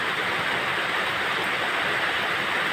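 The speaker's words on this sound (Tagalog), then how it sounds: "pakinig nyo ang ng buhos ng ulan sa bubong ng bahay" Heavy rain pouring onto a house roof in the rural countryside, a dense unbroken hiss that stays steady and loud for the whole stretch, with no voices.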